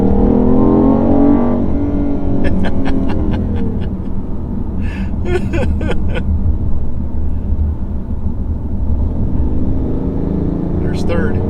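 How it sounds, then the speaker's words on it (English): A BMW i8 accelerating uphill in comfort mode and second gear gives a loud, steady engine and exhaust drone with a rising pull, running continuously beneath a voice. "Comfort mode, second gear, and a strong pull uphill."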